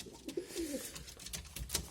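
Soft, low pigeon coos close by in a quiet coop inside a shop, with faint rustling and small clicks around them.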